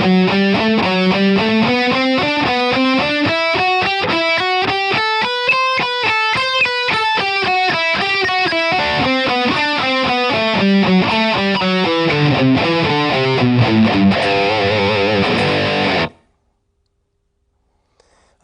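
An electric guitar runs an Ionian major scale pattern with steady alternate picking at a moderate tempo, each note distinct and rising and falling through the position, played alone with light distortion and ending abruptly.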